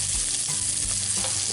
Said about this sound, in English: We'll go ahead and put our chorizo sausage back in.